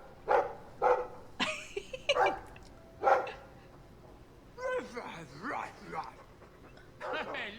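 A dog in the video game Dragon Age II gives a series of sharp barks and yips at close range, followed by whimpering sounds, with talk around them.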